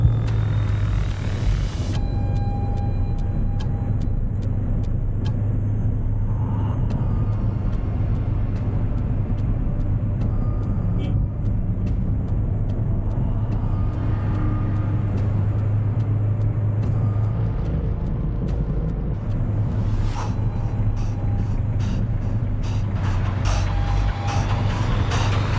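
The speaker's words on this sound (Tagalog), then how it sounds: "sobrang dami na ng sasakyan" Heavy road traffic in Greenhills heard from a moving motorcycle taxi, with a constant low engine and road rumble, passing vehicles, and a hiss and clatter of brakes or air release near the end.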